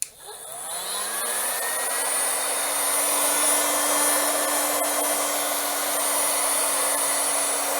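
A heat gun blows on butt connectors while repairing a heavy-duty extension cord, its whine rising as it spins up and then holding as a loud, steady, close blowing roar.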